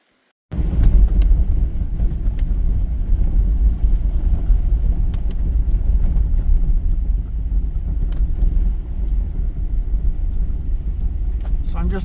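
A car on a scenic road past waterways in the rain, heard from inside: a steady, loud low rumble of engine and tyres with wind noise that starts abruptly and continues without a break.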